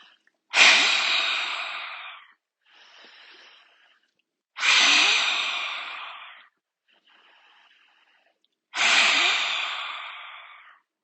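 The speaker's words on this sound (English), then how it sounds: "Big breath in." Three slow, deep breaths are drawn in during a yoga session, each a long, close airy inhale followed by a softer, quieter exhale, with no talking.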